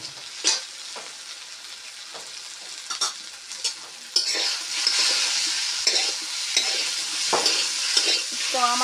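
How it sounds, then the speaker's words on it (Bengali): Cucumber pieces fry in a pan with turmeric and sugar, with sharp stirring clinks and scrapes at first and then a louder, sustained sizzle under continued stirring. "তো আমার শসা ভাজা হয়ে গেছে, এগুলি নামিয়ে নেব এখন।"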